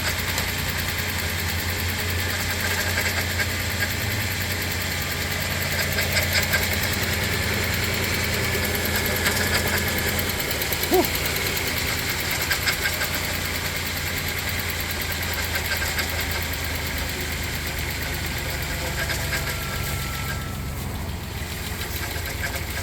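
A 2001 VW Passat engine idles steadily after sitting unused for two years, running with a light clacky ticking while oil pressure builds, a continuous close mechanical rumble with no talk.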